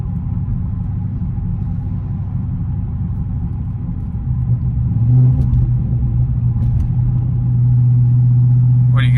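Car with straight-pipe exhaust and no mufflers driving, a deep steady rumble heard from inside the cabin that swells into a louder drone partway through, with faint clicks near the end.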